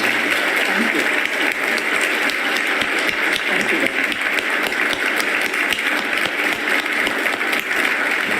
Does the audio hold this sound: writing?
no